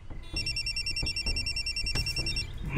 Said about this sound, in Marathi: निविताचा फोन आहे